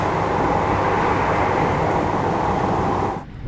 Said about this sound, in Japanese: これは古い721系電車ですが、私のアーカイブチャンネルでも映っていると思います。